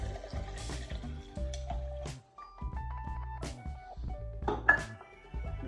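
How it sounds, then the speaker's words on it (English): Liquid poured into a cup at home, splashing and trickling in close, uneven bursts with brief pauses, with faint clinks and handling noise around it. "So I'm gonna pour that in."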